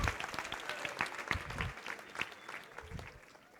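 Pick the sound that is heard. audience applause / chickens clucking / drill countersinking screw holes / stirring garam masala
audience applause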